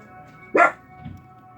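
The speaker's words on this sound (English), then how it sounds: "Y'all pardon the barking." A single sharp dog bark up close, followed by a faint softer yip, against a quiet steady background hum.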